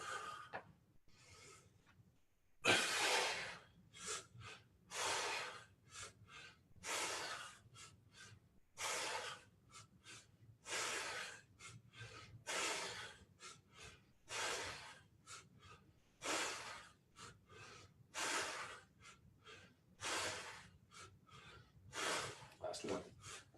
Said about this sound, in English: Inhale on the way down, exhale on the way up.